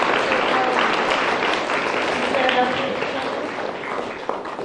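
Young children applauding at a charter school assembly, a dense, continuous wash of clapping with crowd noise and voices mixed in, holding steady for several seconds.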